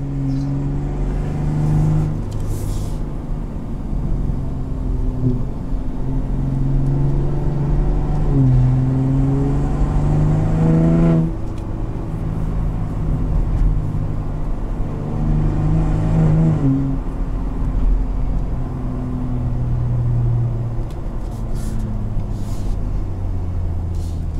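A 2022 Ford F-150 Raptor in Baja mode drones loudly from inside the cabin, its engine note rising and shifting through gears in repeated sweeps over a constant road roar.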